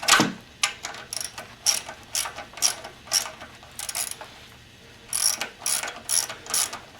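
Ratcheting wrench loosening the oil drain plug on a Mercedes 300D 123, a series of close, crisp ratchet clicks in short bursts with brief pauses.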